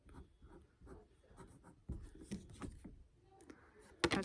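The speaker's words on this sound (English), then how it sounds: "I'm just going to write DNA on one side." Pen scratching across a paper flashcard at close range, a run of short scraping strokes with brief pauses between them and a firmer tap near the end, with no voices.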